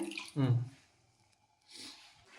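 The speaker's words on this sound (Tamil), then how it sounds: "நம்ம இப்போ இதில் லைட்டாக தண்ணி ஊற்றி வேக வச்சிடலாம்" Water is poured lightly into a pan of chicken cooking for butter chicken, a short splashing pour close by, with a voice speaking briefly in between.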